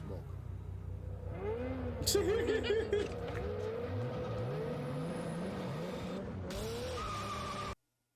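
A Ferrari sports car engine roaring and revving up and down with tire noise during a street race, loud and close, with voices speaking over it before it cuts off.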